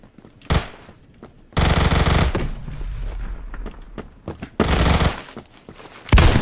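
Close, loud automatic gunfire in the shooter game Phantom Forces, coming in several separate bursts split by short quiet gaps, with a single sharp shot at the start.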